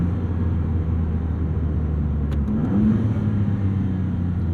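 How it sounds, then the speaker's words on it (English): A 2022 Maserati MC20 with a twin-turbo V6 accelerates on a backroad, its deep engine rumble heard from inside the car, steady and loud, rising briefly with a short-shift change of pitch partway through. "listening to those turbos just engulfing air"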